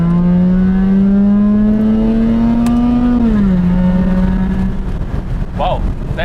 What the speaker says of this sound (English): So let's take a listen at the Rotary-Engined.